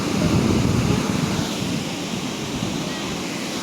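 Steady, loud rushing water roar from a waterfall, a continuous broadband wash with no talking over it.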